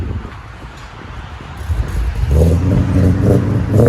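A 2011 Ford Mustang GT with the 5.0 Coyote V8, true dual exhaust and long tube headers, idling low and then revving louder and fuller from mid-clip, with some wind noise over the microphone.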